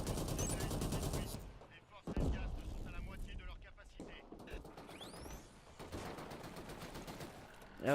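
Rapid bursts of heavy machine gun fire from the video game Killzone Shadow Fall, loud and close, broken by short pauses and mixed with other battle noise and a voice talking over it.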